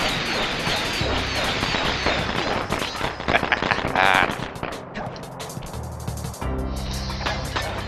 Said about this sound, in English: Launching the fireworks!